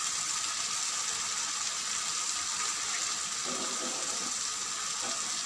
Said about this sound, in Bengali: হ্যাঁ এই মুহূর্তে আমি কিছু অল্প পরিমাণ পানি দিব